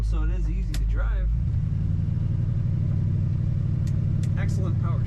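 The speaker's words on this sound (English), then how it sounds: "Very nice acceleration and an awesome exhaust sound from this truck." A 1966 Ford F100 pickup with an automatic transmission accelerates, its low exhaust rumble swelling and then holding steady and loud, close by. A voice speaks briefly over the engine at the start.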